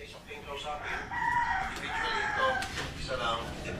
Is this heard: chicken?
yes